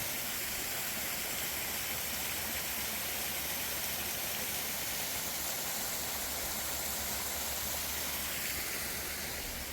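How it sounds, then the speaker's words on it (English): Waterfall at Lehigh Gorge State Park giving a steady, dense hiss of falling water that stays constant and fairly loud throughout, with no voices. "There's a waterfall there"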